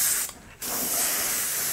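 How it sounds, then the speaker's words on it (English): An airbrush sprays thinned Vallejo Model Color paint in a close, steady hiss that drops out briefly when the trigger is released, then resumes. "And we're back to spraying."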